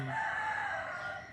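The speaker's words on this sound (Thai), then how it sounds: "เสียงไก่ขัน" A rooster near a house crows once in a single drawn-out, sustained call, clear and fairly close, with no talking.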